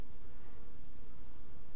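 Honey bees buzz around an opened hive during a honey harvest, a dense, steady, close drone of many insects with no pauses.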